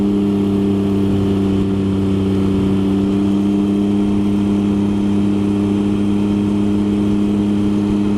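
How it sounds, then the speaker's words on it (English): Steady engine drone of a car on a quiet mountain road high above the homes, holding a constant tone near and clear throughout with no talk over it. "There's a car on here."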